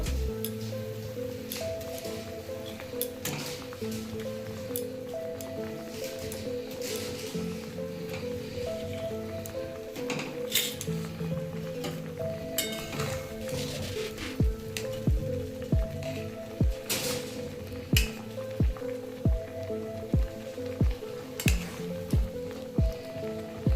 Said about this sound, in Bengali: দেখুন আমার এটা ফুটতে শুরু করেছে আমি এবার পাঁচের ডিমগুলো দিয়ে দেবো